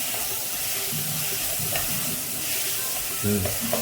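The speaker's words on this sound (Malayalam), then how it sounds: "ഒരു അല്പം ശർക്കര ചേർത്ത് നന്നായിട്ട് വീണ്ടും ഇളക്കി കൊടുക്കുക" Tamarind-ginger puliyinji with jaggery stirred in a hot pan, a continuous soft sizzle with repeated spoon scrapes and a louder scraping knock near the end.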